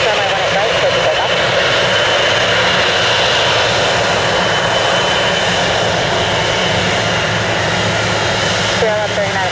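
A jet airliner takes off from a runway at Orlando International Airport, its engines a loud, sustained roar close by, with a radio voice heard over it.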